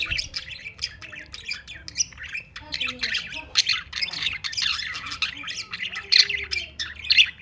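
Parrots in a breeding colony give loud, shrill squawks and calls in rapid, overlapping bursts close to the listener, over a faint background.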